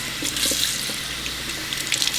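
Running tap water pours steadily over a wig being rinsed in a sink, a continuous close splashing hiss with no talk.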